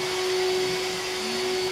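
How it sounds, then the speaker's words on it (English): A household vacuum cleaner runs steadily and loudly from start to finish, a constant droning whine with a strong steady tone and broadband hiss, with no speech over it. "Just turned on the vacuum while I'm in the middle of video."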